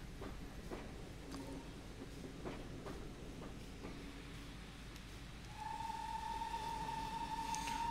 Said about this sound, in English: Whistling into the station.